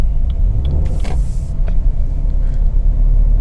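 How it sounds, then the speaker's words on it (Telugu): Inside the cabin of a 2022 Maruti Baleno facelift on the move, a low, steady engine and road rumble fills the space, with a brief whooshing burst and a few faint clicks. "ఇంజన్ నాయిస్ అనేది వోకల్ అవుతుంది, మనకు క్యాబిన్లోకి వినిపిస్తుంది"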